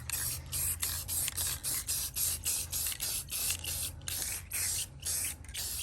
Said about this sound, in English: Just putting a second coat of paint on this on the underside part.